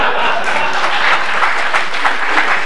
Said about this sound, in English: That gets the biggest applause.